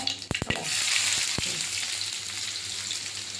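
Onions and chillies sizzle loudly in a hot pan for a chutney, with a few sharp clacks of a spoon at the start, then a steady, close frying hiss.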